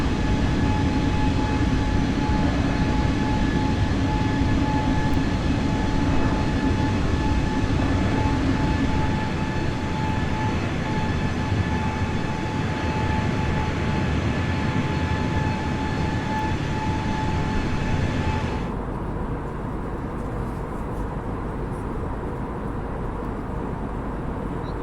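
Steady broadband roar of airliner engines at cruise in Microsoft Flight Simulator, a continuous drone with faint high tones that drops slightly quieter and duller near the end; no talk.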